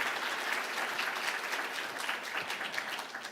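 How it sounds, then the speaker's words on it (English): A forum audience gives a speaker another big round of applause, a steady wash of many hands clapping heard at moderate distance, fairly soft and without speech. "please give him another big round of applause."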